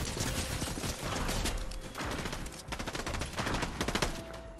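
Gunfire in the video game Fortnite, bursts of rapid shots mixed with mechanical clicks and clatter, fairly loud and continuous across the whole stretch with brief gaps.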